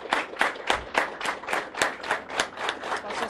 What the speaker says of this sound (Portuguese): eu gostaria de pedir aqui uma salva de palmas em nome do nosso colega